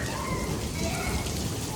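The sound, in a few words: small hailstones falling on a rooftop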